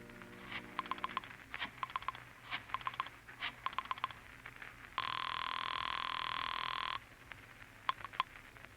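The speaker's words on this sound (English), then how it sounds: "you dial Julie's private phone at the club" A telephone on a 1951 radio drama is dialed with bursts of rapid mechanical clicks, followed by a steady two-second ringing tone and then a few more clicks, all faint and without voices.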